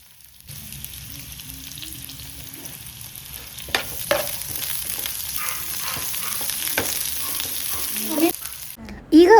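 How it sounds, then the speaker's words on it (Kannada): Sliced onions fry in oil in a pan for a Mangalore-style chicken curry, a soft steady sizzle with scattered clinks and scrapes of stirring that builds toward the end. "ಒಂದು ಪ್ಯಾನಲ್ಲಿ ಆಯಿಲ್ ಹಾಕಿ ಅದಕ್ಕೆ ನೀರುಳ್ಳಿ ಹಾಕಿ ಸರಿಯಾಗಿ ಫ್ರೈ ಮಾಡಬೇಕು"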